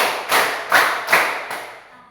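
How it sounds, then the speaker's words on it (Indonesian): One person in a classroom claps four times in a slow counted sequence, each sharp clap spaced about 0.4 seconds apart and fairly close, with a short fade after the last. "Tepuk 1. Tepuk 2. Tepuk 3. Tepuk 4."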